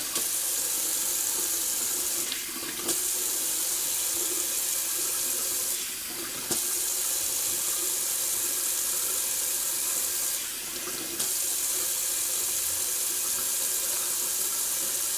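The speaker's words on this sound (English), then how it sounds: "Do a little quick cold water rinse." Cold water runs steadily from a tap into a sink for rinsing during a shave, a continuous close hiss broken by three short dips where the flow is interrupted.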